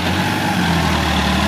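A Massey Ferguson 9500 Smart 4WD tractor pulls a cultivator through a soft field, its engine giving a loud, steady, close drone with a deep, even low end throughout.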